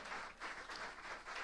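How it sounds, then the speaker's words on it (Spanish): Church congregation applauding together during a Christian service, a dense wash of clapping rising and falling in waves, fairly faint and distant, with no talking. "Bien, dele el aplauso al Señor."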